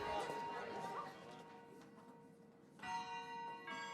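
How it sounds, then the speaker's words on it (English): A bell rings out at a school, ringing tones sustained with a second strike near the end, resonant and fairly clear against a quiet background. "At that moment the bell rang."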